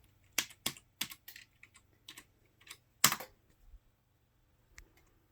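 A password is typed on a computer keyboard for an HP Pavilion a1213w desktop: a handful of sharp, close key clicks in an irregular rhythm with brief pauses, ending with a single isolated press in a quiet room.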